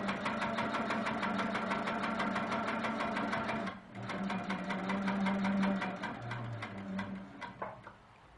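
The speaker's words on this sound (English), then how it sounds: "let's sink that needle down. And I'm going to stitch right along one of those drawn lines" A sewing machine stitches along drawn quilting lines on a quilt border, giving a fast, steady mechanical rattle that pauses briefly midway and then resumes.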